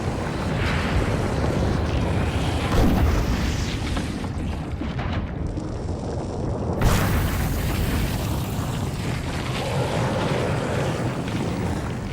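A deep underwater volcanic eruption at an ocean hotspot, heard as a continuous heavy rumbling roar with surging booms near the start and again midway, loud and without speech.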